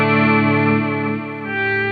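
Electric guitar swell preset played through a Zoom modeler pedalboard: a sustained chord fades in softly with chorus-like shimmer and echo, dips slightly in volume midway, then swells back up.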